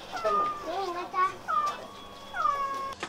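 A cat meows several times in drawn-out, wavering cries, close by, with a brief spoken word mixed in.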